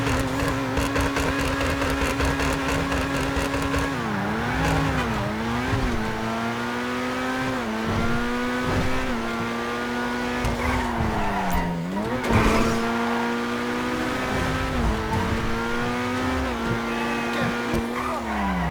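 A Grotti Furia sports car in a video game, engine wailing and rising through repeated gear shifts with tire squeal and skidding, loud and continuous for the whole stretch with no talking.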